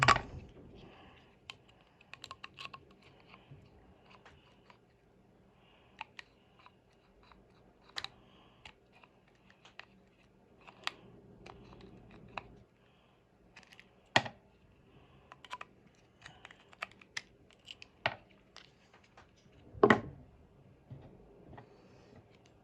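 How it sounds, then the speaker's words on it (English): Small bearings being pried and tapped out of a Traxxas Nitro Rustler nitro RC truck transmission: scattered sharp metallic clicks and taps over a faint steady hum, with one louder knock near the end and no talking. "Now we're going to get all the bearings out."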